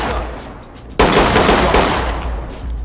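Dense automatic gunfire in the Ready or Not tactical shooter, erupting loud and sustained after a quieter first second of low ambient rumble, continuing as a rapid unbroken burst.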